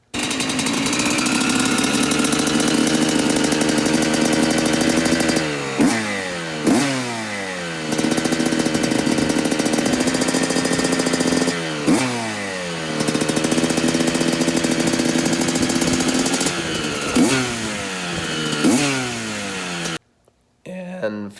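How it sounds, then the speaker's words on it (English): A 2006 Yamaha YZ125 two-stroke motorcycle with a leaking carburetor runs loud and close, buzzing at a high idle and revving in repeated sharp blips before cutting out near the end. "I finally got the bike started"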